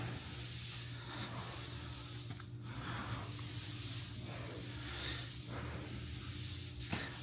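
Grass seed for a fescue lawn blend is scooped from the bottom and tossed by hand, giving a steady hissing rustle with repeated swells as handfuls are lifted and poured, close and continuous.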